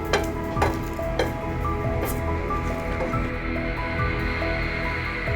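Bay leaf and spices sizzle and crackle steadily in a hot pan as they fry, with occasional stirring scrapes close by.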